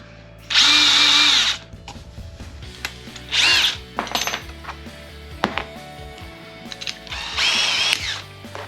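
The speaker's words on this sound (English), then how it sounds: "Drill a pilot." A power drill bores a pilot hole into wood in several short, loud bursts of whining motor, separated by pauses with clattering tool handling and scattered knocks nearby.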